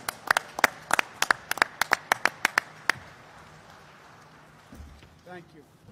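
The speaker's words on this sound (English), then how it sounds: "Let's give them a big round of applause for what they've done and what they're doing." Audience clapping at a coronavirus briefing at the Javits Center in New York City: a dozen sharp, separate claps in an uneven rhythm for about three seconds, then fading out, with faint talk and shuffling afterward.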